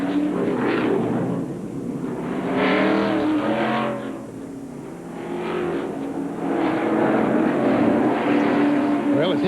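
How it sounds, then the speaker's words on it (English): Jeff Gordon's DuPont Chevrolet NASCAR stock car pulls away from a pit stop, its engine note rising and falling in a few surging revs under crowd and track noise, with a commentator talking over it. "He puts in his gear and pulls away."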